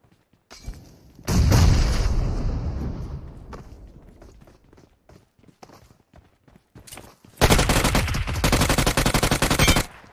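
Gunfire from a Hydra Action video game, heard as two loud bursts of rapid automatic shots, close up, separated by a quieter stretch of scattered faint clicks.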